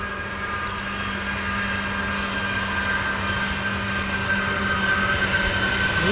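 A US Air Force military aircraft departs from an RAF airbase, its steady, loud engine drone holding a constant tone throughout.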